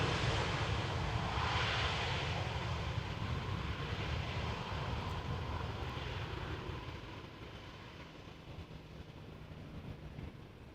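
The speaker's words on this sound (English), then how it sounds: "Lufthansa has just touched down." A Lufthansa airliner touching down at Amsterdam Schiphol, a broad jet roar that is loud at first and then slowly fades as it rolls away, heard from a distance with no talking.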